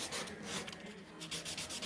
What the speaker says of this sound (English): Alright, so basically I'm just going to sand it.